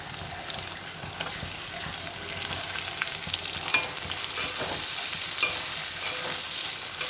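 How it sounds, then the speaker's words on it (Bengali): Onions fry in oil with cumin, green chillies, bay leaf and garlic in a wok, a steady close sizzle broken by scraping stir strokes and occasional clinks. "পেঁয়াজগুলো কমিয়ে দিয়ে নাড়াতে থাকবো।"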